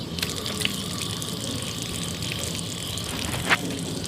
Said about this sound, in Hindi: अब चेहरा धो लिए, ठीक है।